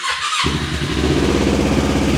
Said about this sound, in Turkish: Bak ben şimdi size şunun marşına basayım.